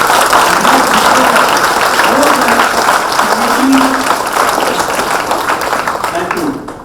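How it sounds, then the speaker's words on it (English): An audience at a science forum applauds in a steady, dense wash of clapping that holds loud for several seconds, with some voices mixed in underneath. "Big round of applause, Indians."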